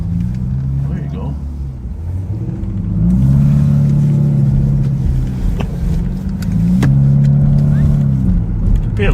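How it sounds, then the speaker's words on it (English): A four-cylinder car with a loud aftermarket muffler revs in two long rising bursts, a deep droning exhaust rumble close by, while people talk over it. "You pay a lot of money to get your muffler to sound like that. Right? Right. For a 4-cylinder car."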